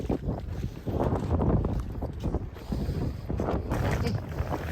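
Wind gusts buffet the microphone on a crabbing trip over rough, choppy water, a continuous rushing roar that swells and eases.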